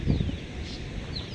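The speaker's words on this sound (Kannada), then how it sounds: "ಪಕ್ಷಿಗಳು ಸದ್ದು ಕೇಳಿಸ್ತಾ ಇದೆ" Birds calling near a quiet private beach at Kudle, Gokarna, with a few thin chirps and short whistling calls standing out over a steady outdoor background hum.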